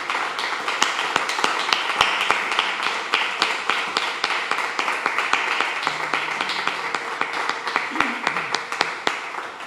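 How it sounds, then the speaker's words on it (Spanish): A church congregation claps loudly at the close of a Spanish-language service, a close, uneven burst of hand claps and taps with voices and brief calls mixed through it. "Denle un fuerte aplauso al Señor"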